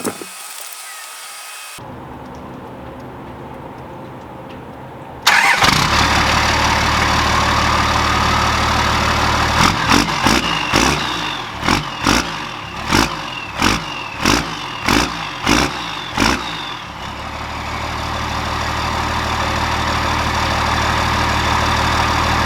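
A Cummins diesel engine on a shop floor cranks in a series of rhythmic bursts after a sudden loud onset, then settles into a steady, loud running drone up close.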